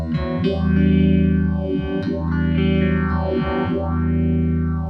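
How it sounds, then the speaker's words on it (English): Electric guitar through a Chase Bliss Audio Wombtone MKII pedal set to 4-step phasing, giving a thick, distorted chord whose tone sweeps deeply in repeated whooshing cycles, loud and continuous with no talking. "So now we've got 4-step phasing, a more intense effect."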